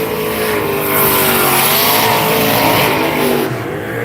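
A turbocharged Datsun 240Z drag car at a drag racing event unleashes a loud, sustained engine roar that swells and holds near by.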